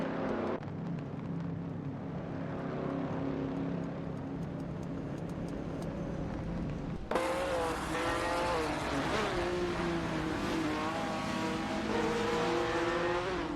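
Race cars roaring around Road Atlanta in a racing video game, a steady engine drone that jumps abruptly into louder, closer revving with rising and falling pitch sweeps as cars pass and shift, with no voices.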